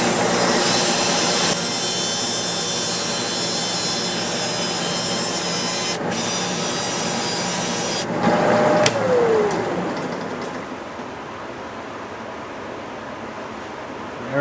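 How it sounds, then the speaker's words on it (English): A buffing wheel polishing a one-piece oak pen turned from a slimline kit and still mounted on the lathe mandrel, a steady close whirring rub that runs continuously, then a brief shift and lighter tail at the end. "I'm going to hit this pen with the buffing wheel"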